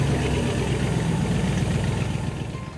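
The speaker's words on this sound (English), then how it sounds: "With the press of the starter button, the calm of the fall morning was broken." A classic hydroplane boat engine idles on a cool fall morning on the bay, a loud, steady, low mechanical rumble that holds evenly throughout with no voices.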